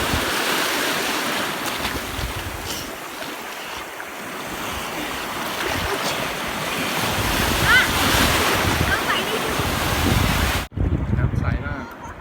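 Sea waves surge and wash onto Nam Sai beach at Sattahip, a steady broadband roar with wind buffeting the microphone throughout, then cutting off abruptly near the end.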